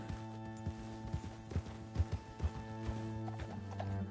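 A horse's hooves gallop in the Red Dead video game, a steady, rhythmic clip-clop of fairly loud beats over a sustained tonal hum of game ambience, with no talking.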